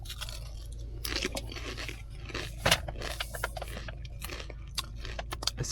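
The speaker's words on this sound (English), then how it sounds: "It's always very nice to eat crisps with, and you drink some of this." Someone munches crisps close to the ear, with crunchy bites and scrapy chewing over a low background hum.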